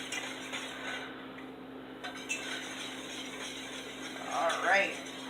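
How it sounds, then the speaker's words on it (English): Custard being stirred in a pot on the stove, a steady scraping and clinking of utensil against metal running throughout at close range, with a brief voice near the end. "My arm is starting to hurt from stirring it."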